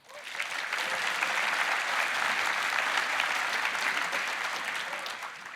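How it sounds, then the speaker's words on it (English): An audience at a keynote presentation gives sustained applause, a dense, even clapping that swells quickly, holds steady for several seconds and then starts to fade, with no voices over it. "Let's give them a round of applause."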